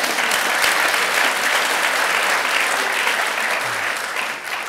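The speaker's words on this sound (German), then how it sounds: "Dass Sie dafür Applaus kriegen, finde ich nicht gerecht." Audience applause at a stage conversation with a ballet director and choreographer, a steady dense wash of clapping from a full hall that holds for several seconds and begins to fade slightly at the end, with no voices over it.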